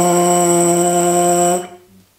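A trombone mouthpiece buzzed on its own, a single sustained brassy buzz held steadily, then cut off, leaving near silence.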